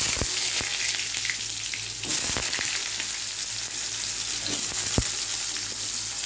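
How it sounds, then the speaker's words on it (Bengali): Potato pieces frying in hot oil in a pan for a prawn and potato curry, a steady loud sizzle with occasional sharp pops and clinks of stirring. "তো এবার আমি আমার আলুটাকে ভেজে নেব।"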